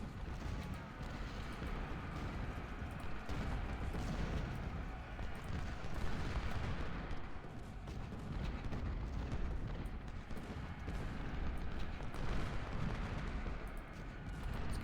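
Artillery fires in a Civil War battle in Ultimate General Civil War, a continuous distant rumble of cannon booms and musketry that blends into a dense, steady roar of battle without clear breaks.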